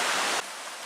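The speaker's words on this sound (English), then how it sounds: "Now we're coming up to the stream." Stream water flows along a hiking trail in Michigan's Porcupine Mountains, a steady broadband rush close by that drops to a softer, quieter wash partway through.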